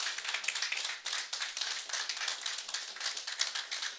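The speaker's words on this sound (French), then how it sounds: "ce n'est pas une raison pour ne pas applaudir." Audience applause at an award ceremony, dense continuous clapping from many hands at a moderate distance, without voices.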